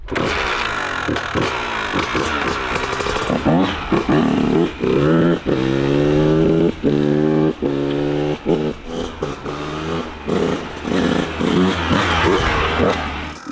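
A Honda motorcycle engine, unstarted for a long time, sputters and cranks, catching and revving in uneven bursts with brief drops between attempts, loud and close.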